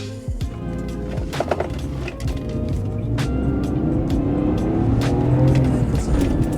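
A BMW E46 325xi engine climbs in revs toward about 5,000 RPM while driving uphill, its rising tone building steadily louder and closer after a few brief knocks at the start.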